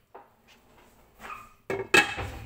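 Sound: lid placed over pan of roasting pineapple

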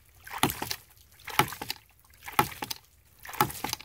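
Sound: 1-1/4 inch ram pump running

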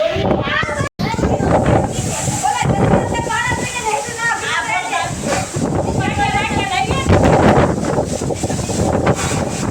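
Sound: strong wind with rain

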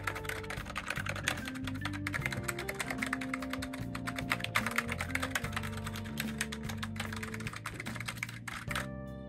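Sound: typing on ROCCAT MAGMA Mini membrane keyboard

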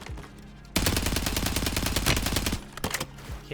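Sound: gunfire in the video game Call of Duty: Warzone

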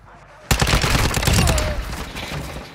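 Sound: gunfire in the video game Call of Duty DMZ

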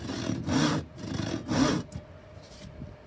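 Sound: panel saw cutting wood

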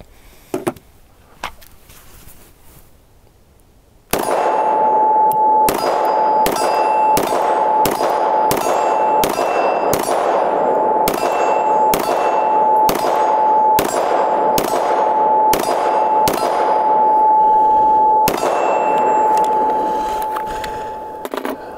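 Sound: FN 510 10mm pistol gunshots

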